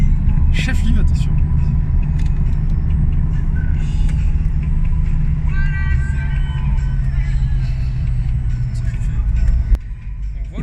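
A Corvette C4 driving at an autumn classic car event, its engine a loud, low rumble heard from inside the car under continuous talking and background music.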